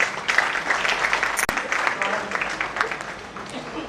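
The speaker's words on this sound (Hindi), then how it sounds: "इनके सम्मान में भी आप जोरदार ताली बजा दें" A Hindi poetry gathering audience, an Agrawal Mahasabha event, claps in honor of guests, a steady mid-level wash of applause running throughout with one sharp click near the middle.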